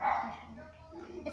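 A dog barks outside, with one short nearby bark at the start and softer yips after it.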